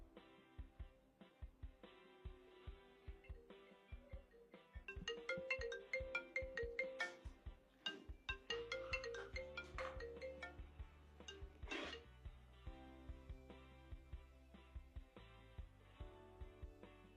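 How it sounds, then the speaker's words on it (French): A mobile phone ringtone plays as a melodic electronic tune, loud and close, repeating its phrase over about seventeen seconds in a domestic argument scene, with no speech over it. "Ton téléphone fait que sonner."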